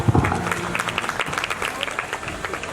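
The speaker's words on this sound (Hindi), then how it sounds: "जोरदार ताली।" An audience at a state-level school science drama competition breaks into applause, a loud, continuous patter of many hands clapping close by, with faint voices mixed in.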